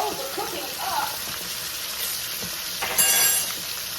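Chicken wings frying in hot grease make a steady, close, dense sizzle that holds throughout, with a brief louder surge of hiss near the end.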